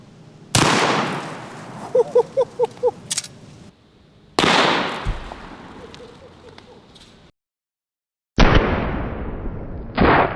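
A Henry Model X lever-action rifle in .44 Magnum fires at a watermelon, giving a few sharp, loud outdoor shots separated by pauses, each followed by ringing decay.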